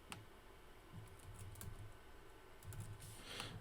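Faint, soft keystrokes on a computer keyboard during a DIY weather balloon project, a few scattered clicks and short bursts of tapping over a quiet room hum.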